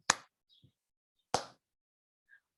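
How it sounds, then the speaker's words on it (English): Two sharp, isolated hand claps about a second apart, close and crisp with silence between them, during a theatre warm-up game. "So if you clap with me"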